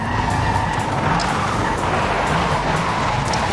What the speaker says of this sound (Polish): Driftując oczywiście.